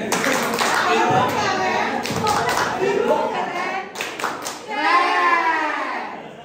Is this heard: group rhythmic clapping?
yes